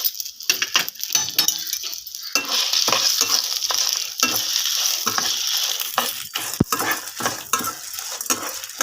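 Small onions fried in half a teaspoon of oil, cooked until reddish for an egg and garlic masala, give a steady broadband sizzle broken by irregular scraping and stirring clinks of a utensil against the pan.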